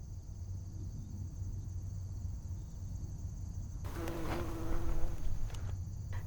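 Bees buzz around soybean flowers outdoors, a steady, faint insect drone over quiet ambient noise that swells slightly partway through.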